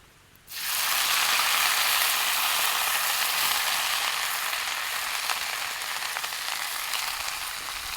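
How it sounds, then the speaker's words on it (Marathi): Sarata greens hit hot oil in a kadhai with a sudden loud sizzle that settles into a steady, dense frying hiss, close and continuous with no voices. "कढईत भरपूर तेल टाकलंय श्री हो भाजी चांगली परतून घ्यायची"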